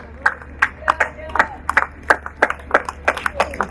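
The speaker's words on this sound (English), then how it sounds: "A big round of applause for this amazing initiative and an amazing team." An audience at an awards ceremony claps in a quick, steady patter of sharp hand claps, close and fairly loud, over a low background hum.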